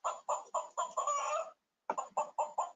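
A voice imitates a hen's clucking: a quick run of short, rhythmic clucks, a brief pause, then another burst of clucks, close and clear.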